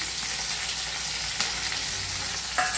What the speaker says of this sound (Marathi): आता तेल गरम झालेलं आहे, त्याच्यामध्ये मी थोडंसं मंद आचेवर, आपल्याला परतायचं जोरात नाही आहे, कांदा टाकून घेतली.